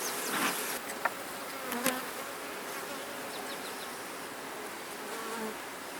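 Honeybees buzzing densely around an open hive during an inspection, a constant close swarm hum with individual bees zipping past the microphone and a couple of faint knocks.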